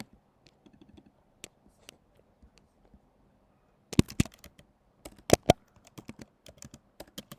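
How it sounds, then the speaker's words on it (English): Computer keyboard typing: a few scattered key clicks, then after a pause a denser burst of quick, fairly close keystrokes in uneven clusters, with no talking. "let me type this"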